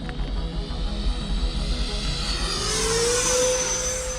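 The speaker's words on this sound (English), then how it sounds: "Today, I got the Freewing F-18 90mm with the FMS 1950 kV motor that comes right out of the E-Flite Viper 90mm." A Freewing F-18 90mm electric ducted-fan RC jet fitted with an FMS 1950 kV motor flies past, its steady whooshing whine rising in pitch toward the end as it draws near, with no talking.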